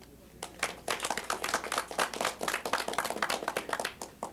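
Audience applause at a city council meeting: a steady patter of many hands clapping for about four seconds, moderately loud and fairly close, with no speech over it.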